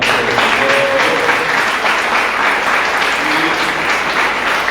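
A congress audience at a Guarani language and culture gathering gives a strong, dense round of applause that holds steady and loud throughout, with no speech over it.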